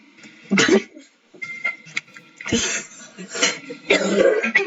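Coughing and throat clearing in a few separate bursts, fairly close and loud, with some game or background noise in between.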